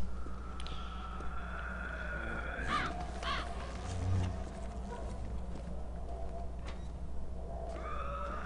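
A crow caws a few times in the ZombiU video game, harsh calls set over a low droning ambient background with a soft thud midway.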